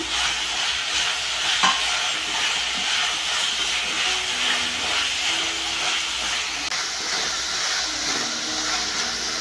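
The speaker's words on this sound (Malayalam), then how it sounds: "ഒന്ന് പച്ചമണം മാറി കിട്ടുന്നവരേക്കും ഇതൊന്ന് ഇളക്കിക്കൊണ്ടിരിക്കണം." Sliced tomatoes frying in a pan for a Kerala-style fish curry make a constant hissing sizzle with occasional stirring scrapes, at moderate level and with no talk.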